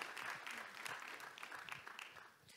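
A small round of applause at a parliamentary conference on foreign and security policy, a brief patter of clapping from a modest group, fairly faint and fading toward the end.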